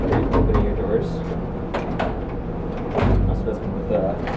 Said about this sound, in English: and you can open your drawers.